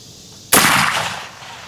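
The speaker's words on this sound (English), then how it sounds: "we're going to shoot 3 panels of that 3/8 inch Lexan with a 223 just to test" A single sharp, loud .223 rifle shot fired at 3/8 inch Lexan panels during an armor test, a sudden crack followed by a decaying outdoor echo, with no talking.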